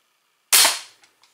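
An Excalibur crossbow fires during a speed test, giving one sharp, loud snap that decays quickly, followed by two faint, short knocks.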